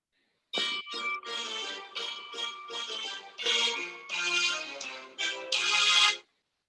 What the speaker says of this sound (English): That's her ringtone.